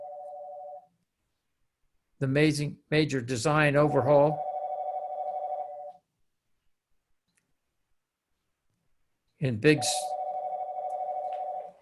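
A telephone sounds during a call as steady electronic tones in long sustained bursts, the first one brief, then separated by someone talking, with stretches of silence between.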